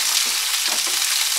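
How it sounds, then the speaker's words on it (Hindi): Chopped onions frying in hot oil over a medium flame, stirred steadily: a dense, continuous sizzle with soft scraping strokes from a spoon against the pan, close and even throughout, with no talking. "और प्याज को तकरीबन 1 से 2 मिनट मीडियम फ्लेम पर इसी तरीके से पका लेंगे।"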